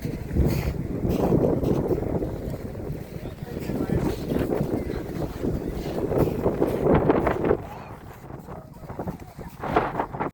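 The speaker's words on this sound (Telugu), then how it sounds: "గాలి గాలి గాలి." Strong gusty wind at the Columbia Icefield buffets the microphone with loud, continuous low roaring for about ten seconds, easing briefly near the end, while people talk nearby.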